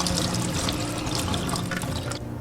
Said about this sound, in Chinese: 准备一块老豆腐，给它洗干净